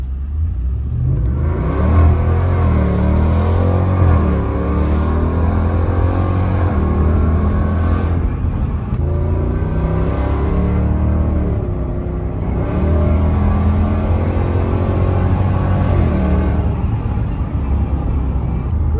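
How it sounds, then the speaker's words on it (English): A Ram 1500 pickup with universal mufflers and a deleted resonator accelerating, its exhaust a loud, deep, raw rumble that rises and falls through several rev climbs and gear changes, heard from inside the cab. "Acceleration, here we go."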